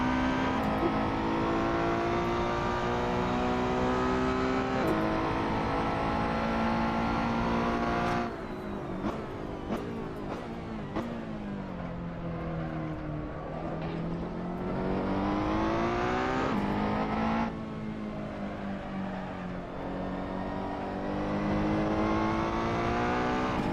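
Ferrari race car engine in an esports racing game at the Nürburgring, a loud continuous high-revving roar with rising and falling pitch through gear shifts and sharp downshifts, steady and close throughout.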